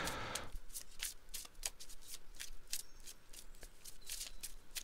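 Tarot cards being shuffled by hand during a reading: a rapid, continuous riffling and flicking of card stock, close and fairly loud, with no one talking.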